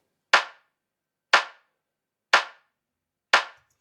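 Layered clap samples panned slightly right with a 1 ms delay: four crisp, identical claps spaced evenly about a second apart, each with a short bright decay and silence between.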